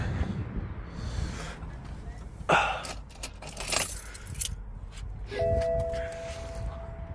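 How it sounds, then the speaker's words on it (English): Car keys from a BMW F21 1 Series jangle in short metallic bursts near the microphone over low outdoor rumble, followed by a steady electronic tone like a lock chime. "let's just get the keys out and then we'll lock it up"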